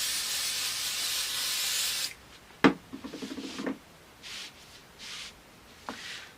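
Spray adhesive hisses from a can onto fabric for a zippered project bag, one long steady burst followed by several short puffs and light handling noises, close by with no speech.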